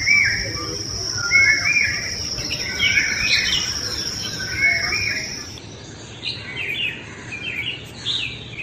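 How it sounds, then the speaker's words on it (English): A neighbourhood dawn chorus of songbirds, with short chirps and trilling phrases repeating throughout, set over a steady high chirring of crickets or insects. "bring to you euphonious voices of our feathered friends"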